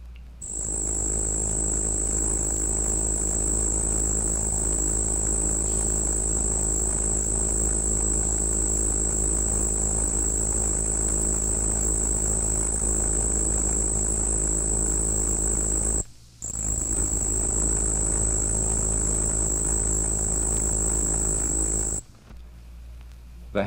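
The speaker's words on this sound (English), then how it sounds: "One of the tiniest of the crickets is Say's bush cricket, Anaxipha exigua. It sings a very high-pitched trill." Say's bush cricket, Anaxipha exigua, a tiny cricket, gives a continuous, very high-pitched trill, steady and loud with two short breaks near the end.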